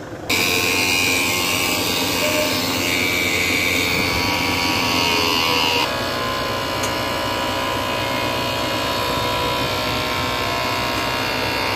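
A Mitsubishi Fuso 6M70 diesel engine runs steadily just after a cold start, a loud, constant mechanical roar with a high whine, dropping slightly in level partway through.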